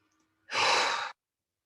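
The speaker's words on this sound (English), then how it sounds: "So long inhale" One long, smooth breath drawn in through the nose or mouth during breathwork meditation, close and clear, lasting just over half a second between stretches of silence.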